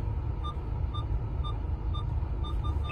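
Warning beeps from a car during rear automatic emergency braking while reversing; a faint, evenly spaced series of about six short beeps roughly every half second over a low rumble of engine and road noise.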